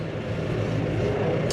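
A New Holland T5 tractor drags a big-bale trailer down a field, its engine a steady, continuous low drone heard close, with no talk.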